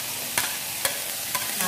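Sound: chili added to vegetables frying in pan

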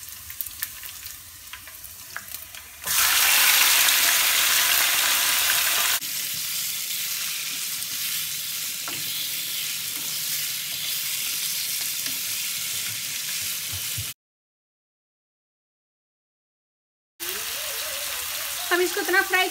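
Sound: chicken frying with ginger in a pan

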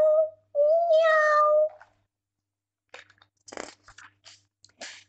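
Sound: cat meowing in a storytelling

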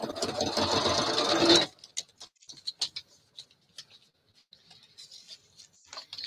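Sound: sewing machine stitching a paper booklet

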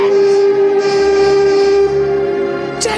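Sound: tugboat whistle blowing

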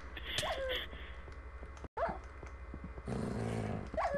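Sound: dog growling in Minecraft video game

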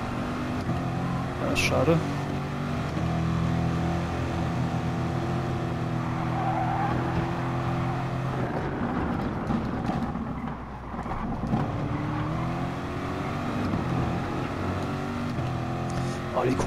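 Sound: Corvette C7 Gr.3 race car engine, from the video game GT Sport

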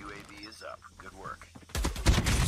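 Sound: gunfire in a video game

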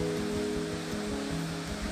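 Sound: water leaking from an open flush valve on a wall-hung toilet

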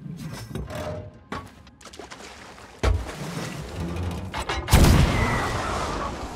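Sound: ship cannon firing in the video game Sea of Thieves

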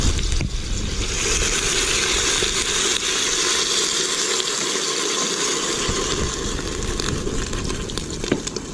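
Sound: pouring white vinegar onto jalapeño peppers

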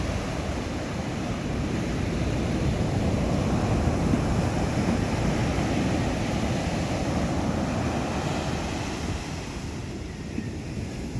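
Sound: waves crashing on shore

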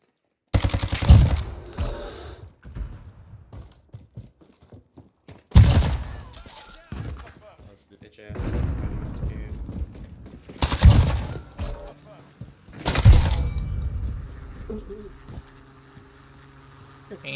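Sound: gunfire in video game Modern Warfare

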